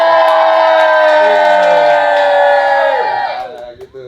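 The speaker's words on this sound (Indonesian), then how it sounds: "Coba kalau teriak gimana suaranya?" Someone shouts loudly in a sustained, strained yell, voice held for about three seconds before breaking off and fading, close and dominant with a hint of crowd-like reverberation.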